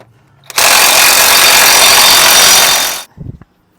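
A power tool runs loud and continuous for about two and a half seconds while tightening the CV axle nut on a 2011 Dodge Avenger 3.6 litre, then cuts off, followed by a brief clatter.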